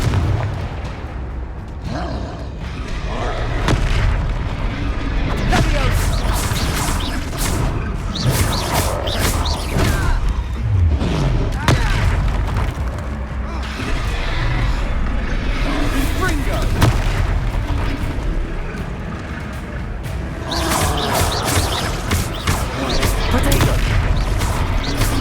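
Repeated Confringo blasting spell explosions in the video game Hogwarts Legacy, loud booming blasts and crashes in rapid succession that fill the whole stretch amid continuous combat noise.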